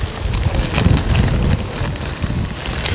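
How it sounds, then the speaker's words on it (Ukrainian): Strong gusty wind at a lake buffeting the microphone, a loud rumbling roar that swells and eases with no voices. "досить такий вітер ще сильний"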